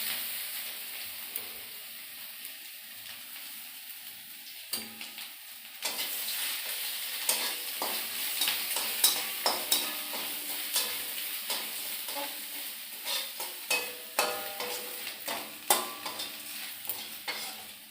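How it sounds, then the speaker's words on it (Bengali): Cumin seeds and ginger fry in hot oil, a soft hiss that swells into louder crackling sizzle about six seconds in, with frequent spatula scrapes and clinks against the pan, close up and without talk. "এই যে হয়ে গেছে এটা ভাজা।"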